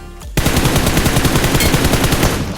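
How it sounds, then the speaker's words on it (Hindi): Loud automatic gunfire bursts out in a BGMI mobile battle royale match, a rapid, steady stream of shots at close range with no voices. "साला सामने से कोई फायर कर देता है,"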